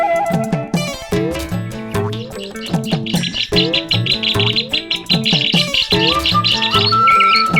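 Cartoon birds chirping in an Assamese animated show, bright repeated tweets and chirps over a busy rhythmic music track with plucked and percussive notes, loud and close throughout.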